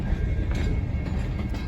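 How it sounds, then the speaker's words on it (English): A short train rolls past on a railway line, giving a steady, close, continuous rumble with faint clattering from the wheels and no voices. "Oh, it's a short train."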